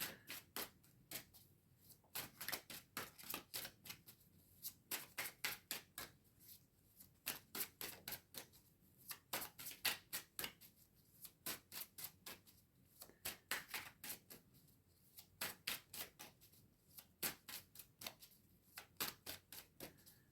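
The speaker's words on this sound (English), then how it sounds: "Two more cards for Aries. Let's get two more cards." Tarot cards are shuffled and flicked in steady bursts of crisp riffling clicks, repeating in clusters with short pauses between, close up and without talk.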